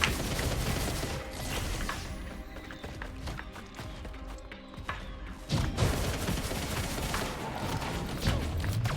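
Dense, rapid gunfire from the video game Risk of Rain 2 keeps going throughout with overlapping impacts and effects, steady and loud in a busy game mix.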